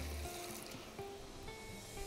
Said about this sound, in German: jetzt lösche ich das mit ungefähr 500 Milliliter Rotwein auf